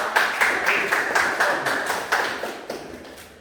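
Students in a classroom clap for a classmate's answer, a steady, evenly spaced series of claps that grows gradually softer.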